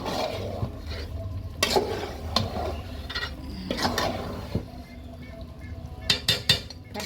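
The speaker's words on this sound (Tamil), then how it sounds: "நல்லா ஒரு பரட்டி" Chicken biryani made with tulsi rice being stirred in a pot with mint sprinkled on top, giving scraping spoon strokes, metallic clinks against the pot and a soft sizzle underneath, with sharper clatters near the end.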